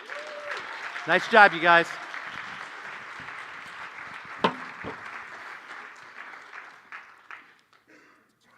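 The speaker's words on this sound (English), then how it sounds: "This warm applause is for you as you walk up the stage." Applause from a school audience as kids walk up onto a stage, a steady clapping wash with a few louder bursts, fading out toward the end, while a voice speaks briefly over it.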